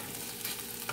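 Potatoes and garlic hiss and crackle in a hot pan during a brief stir-fry with bell pepper, a steady close sizzle with a small scrape, no voices.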